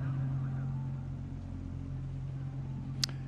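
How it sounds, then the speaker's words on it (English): Lamborghini Super Trofeo race cars idle on the grid at Mid-Ohio before the 2018 race start, a steady low engine drone with one brief sharp click near the end. "Engines are started."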